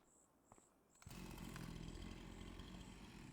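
A chainsaw in Farming Simulator 25 starts up after a few faint clicks, then runs with a loud, steady buzzing drone close by, with no talking.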